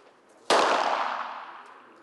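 A single sharp pistol gunshot crack at a 25-metre shooting range, with a ringing, decaying echo trailing off for over a second.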